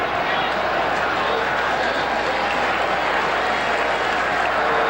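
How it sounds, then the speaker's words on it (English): Crowd applause and cheering from spectators at a 1979 New Zealand All Blacks versus Argentina rugby test match, a dense, steady wash of clapping and crowd noise sustained throughout, with no single voice standing out. "People are not just clapping their hands to keep them warm."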